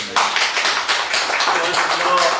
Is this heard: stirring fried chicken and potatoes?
no